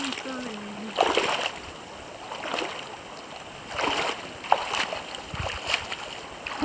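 Water splashing at a creek crossing on the French Creek trail, with several loud surging splashes in bursts and a faint background murmur, and a voice talking briefly near the start.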